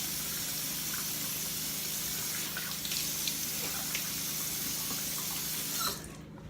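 Tap water runs steadily into a sink while shaving lather is rinsed off a face, a close continuous splashing wash with light irregular splatters, easing off near the end.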